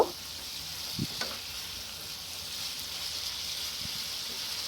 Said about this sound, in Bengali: এর মধ্যে আমি ভেজে রাখা আলু আর পটলগুলো দিয়ে দিলাম দিয়ে এবার এটাকে ভালো করে নেড়ে চেড়ে নেব